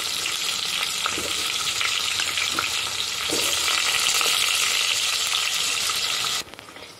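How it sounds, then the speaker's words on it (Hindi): Onion and dudhiya frying with cumin in oil in a pan for Pune-style dalcha, a loud, dense, continuous sizzle that swells midway and then cuts off abruptly near the end. "अब हम एक प्याज कट कर कर डालेंगे और हम इसी के साथ ये दूधिया भी डाल देंगे।"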